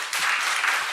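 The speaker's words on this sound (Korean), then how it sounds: "동의하시면 큰 박수 부탁드립니다" A crowd at a political rally breaks into brief, dense clapping that starts abruptly and holds for under a second.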